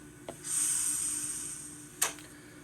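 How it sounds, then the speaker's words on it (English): A sustained airy hiss of train brakes releasing, starting after a click and fading slowly, ending with a sharp short burst, from a model train sound file for a Dutch NS VIRM train. "We'll release the brakes."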